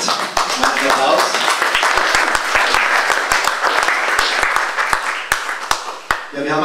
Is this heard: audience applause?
yes